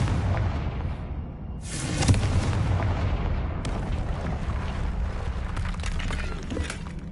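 Confringo spell blasts in the Hogwarts Legacy video game: a couple of loud, booming bursts with a crackling tail, rising over a steady rumbling game ambience, with no talking.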